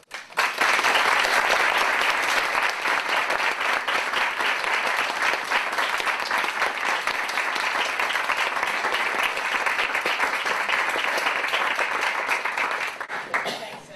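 A lecture-hall audience breaks into sustained, loud applause welcoming a professor, dense clapping holding steady for over ten seconds before fading out.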